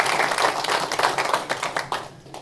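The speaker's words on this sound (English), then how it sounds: "we just give him a round of applause" A small audience at a conference gives a short round of applause for Glenn Fitzgerald, close, uneven clapping that thins and fades within a couple of seconds.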